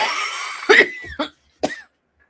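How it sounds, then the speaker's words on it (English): One person coughs in a short sequence of three harsh bursts, the first loudest, close to the microphone with brief pauses and a little breathy noise between. "One more cough, sorry."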